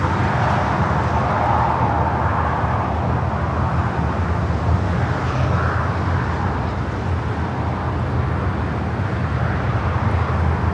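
A broad, steady roar from an airplane at LAX airport, a wide rumble with wind-like hiss that holds at fairly loud level for the whole stretch, with no voices over it.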